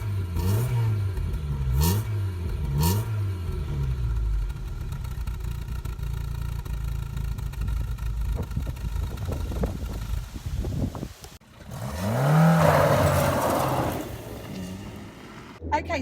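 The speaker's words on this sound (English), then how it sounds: "let's go and have a listen from the back exhaust" A 1980s Triumph Acclaim car's exhaust heard from behind at close range, idling with a few sharp revs early on, then a steady drone, a brief dip, and a rising rev with wind buffeting the microphone.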